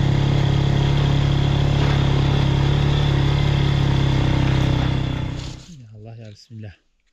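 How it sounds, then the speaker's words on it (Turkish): A loud engine idles steadily up close for several seconds, then cuts off, leaving a brief voice at the end. "size daha fazla motor sesi dinletmeyeyim"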